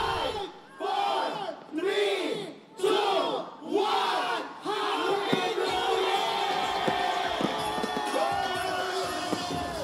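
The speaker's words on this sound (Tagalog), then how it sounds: "Masasayang hiyawan at kantahan sa iba't ibang sulok ng lungsod" Crowds celebrating New Year's Eve in Quezon City cheer and shout in loud repeated waves, surging then dipping several times before settling into a continuous roar of voices and whoops.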